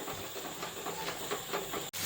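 Grated onion sizzling in hot oil in a pan for cabbage kofta curry, a steady broadband hiss of frying with soft crackles that holds evenly, broken by one brief drop near the end.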